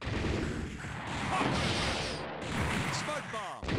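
Dense, continuous booming blasts and crackling weapon fire from a fighting video game match, Iron Man versus War Machine with shoulder cannon fire, roar without pause, loud and chaotic, with a brief electronic whine near the end.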